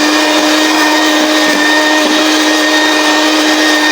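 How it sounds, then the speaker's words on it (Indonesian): An electric mixer beating eggs and sugar into a thick sponge cake batter, a loud constant motor whine held steady throughout with no talking. "Jadi ini mau di mixer dulu sampai teksturnya kental dan berjejak."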